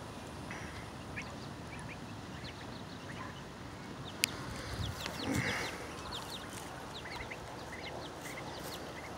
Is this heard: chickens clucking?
yes